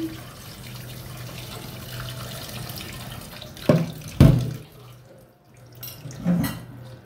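Hilsa fish rinsed under a running kitchen tap, a steady low stream of water with a few louder splashes and sloshes near the middle and end, no talking.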